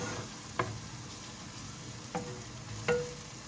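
Onion frying in a pan for a potato bulgur pilaf, a steady low sizzle heard alone with three brief utensil taps or scrapes against the pan.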